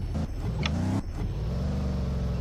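A video game car engine hums and revs with a steady harmonic drone, briefly dipping around a shift before holding a constant tone, close and loud.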